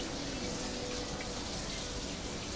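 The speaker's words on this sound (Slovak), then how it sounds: "počujete tú vodu" Steady running water from a shower in a Bangkok slum settlement, a continuous broadband hiss at moderate level with no breaks and no voices.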